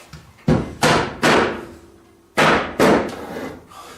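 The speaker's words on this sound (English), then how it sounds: "There's the mallet." A mallet knocks wooden baby gate parts together during a glue-up, five sharp, close thuds in two groups of three and two, with short pauses between strikes.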